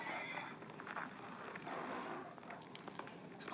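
Horses in a zoo in the video game SurvivalCraft neigh and whinny in a steady run of calls, with clip-clopping hooves under a constant background hiss.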